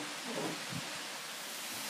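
Rain falls outside early in the morning as a steady, dense hiss, with a few low rumbles in the first second, fairly quiet and even throughout, and no one speaking.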